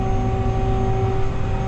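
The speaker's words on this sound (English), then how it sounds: "I'm gonna get this tractor on the roller" A tractor engine runs at a steady drone with a constant tonal hum, close and loud, with no other sounds over it.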